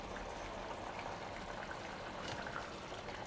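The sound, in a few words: water boiling in pot with rice for tomato rice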